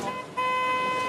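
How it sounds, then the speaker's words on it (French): A car horn sounds in a steady sustained honk, loud and close, with a brief dip partway through before holding on to the end. "Arrête de klaxonner à chaque fois, papa"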